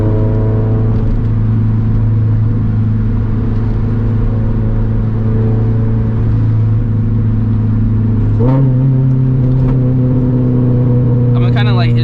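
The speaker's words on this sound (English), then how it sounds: "let my car decel so you guys can hear that lightweight flywheel chatter" A turbocharged Scion FR-S with a lightweight flywheel coasts down in gear, its steady engine drone and driveline chatter holding close and loud, then shifting pitch near the end as the revs change.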